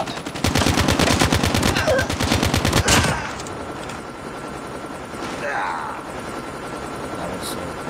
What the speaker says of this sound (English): Hostile stealth chopper inbound.